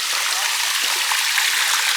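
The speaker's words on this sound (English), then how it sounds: "It's not a very big waterfall," Water from a small waterfall rushes in a steady, close hiss of falling and splashing flow, without a break.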